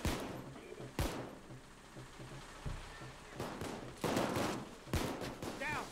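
Gunfire in the video game Payday 2 during a bank vault heist: sharp shots crack out in scattered bursts over a steady background rumble, with brief talk mixed in.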